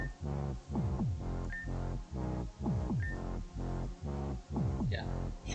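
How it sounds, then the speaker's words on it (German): Loud, thumping electronic party music from Pokémon Rejuvenation with a steady pounding beat and descending synth sweeps, playing continuously with no talking. "was ist da mit der lauten Musik?"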